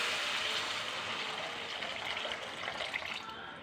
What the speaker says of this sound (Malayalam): നമുക്ക് ഈ പുളിവെള്ളം ഇതിലേക്ക് ഒഴിക്കാം.